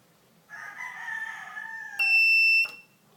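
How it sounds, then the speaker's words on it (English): Buzzer in a small transistor buzzer circuit, a thin electronic tone lasting about a second and a half, then a sharper, louder steady shrill whine for about half a second before cutting off. "the buzzer is buzzing"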